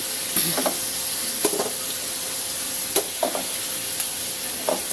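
Shrimp paste and sweet potato sizzle in a pan while being sautéed for pakbet, a steady frying hiss broken by several sharp stirring clinks and scrapes, close and moderately loud with no talk.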